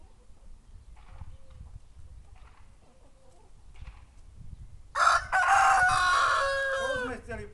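A rooster crows loudly and close by at a rural farmyard, one long cock-a-doodle-doo that follows several seconds of quiet background noise with a few faint distant sounds.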